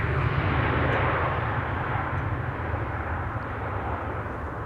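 Aer Lingus airliner arriving from Dublin and landing at Amsterdam Schiphol, a loud steady low roar of jet engines with broadband rumble that eases slightly over several seconds.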